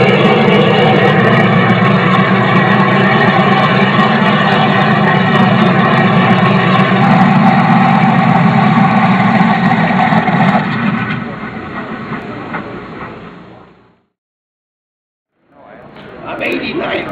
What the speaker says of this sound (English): the R2800 double-wasp radial engine will always be known as the engine that won the